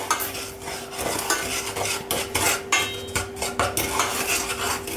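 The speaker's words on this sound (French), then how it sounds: "Donc on met notre sucre, notre eau. Donc là, on va mélanger." Sugar and water being mixed in a pan for caramel, with a spoon clinking and scraping in quick, irregular strokes against the metal, close and clear, with no talk.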